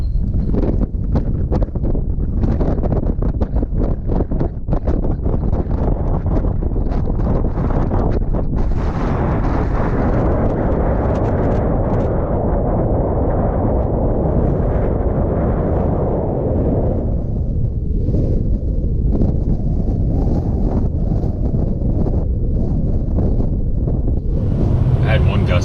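Strong gusting wind on a lake, with 20 to 40 mph gusts buffeting the microphone in a loud, continuous roar. A surging peak comes in the middle, with a boat faintly present.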